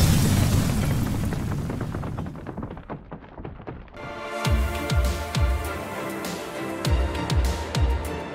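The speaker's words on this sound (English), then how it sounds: "Why is there an explosion?" Blocky Minecraft explosion bursts into a loud booming roar that decays over a few seconds, followed by a series of deep thudding impacts and crackling debris sounds.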